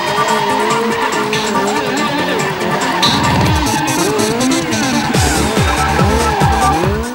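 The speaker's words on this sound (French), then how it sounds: "capable de piloter son bolide tout en dérive, de contrôler son dérapage autour des volontaires" A Ford 37 replica with a motorcycle engine drifts around a course at a tuning show, engine roaring loud and close as its tires squeal and skid in long wavering screeches.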